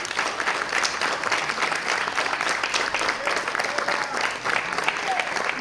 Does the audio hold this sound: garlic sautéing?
no